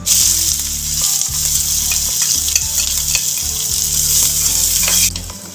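Finely chopped onions fry loudly in hot oil with cumin, a dense close sizzle broken by rhythmic scraping strokes of a spatula stirring the pan, fading out at the very end.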